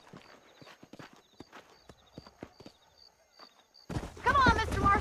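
Horses trot along in the Red Dead Redemption video game, a quick run of light hoof clip-clops with faint chimes over quiet ambience, then a voice speaks loudly over the last second.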